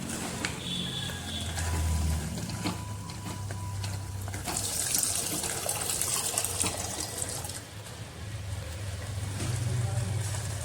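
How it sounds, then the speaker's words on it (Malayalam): Tamarind water poured into a Kerala-style sardine chilli curry (mathi mulakittathu), a continuous splashing, gushing stream of liquid with some clinks and rattles throughout. "ഇനി നമുക്കതിലേക്ക് പുളിവെള്ളം ചേർത്തി കൊടുക്കാം."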